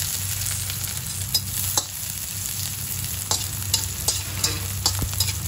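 Garlic frying in hot oil for ginataang langka gives a steady, moderate sizzle with a few sharp clicks from stirring scattered throughout, and no one talks.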